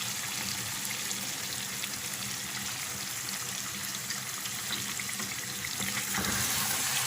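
Chicken karahi frying in oil after whisked yogurt is added, giving a loud, steady close-up sizzle with faint stirring scrapes throughout and no talking.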